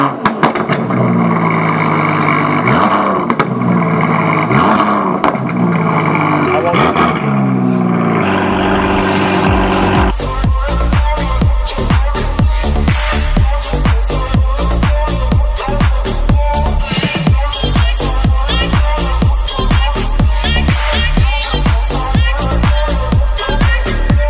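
An Aston Martin DBX SUV engine revs loudly, rising and falling at first, then settling into a steady, rapid pulsing drone. It is close and continuous, with no talk over it.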